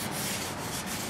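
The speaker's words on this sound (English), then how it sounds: "Give the bed a good wipe down to get rid of any residual finishes or anything like that." Cloth saturated with cleaner wiped along a wood lathe bed, a steady close rubbing swish that runs throughout with a few soft strokes and no talking.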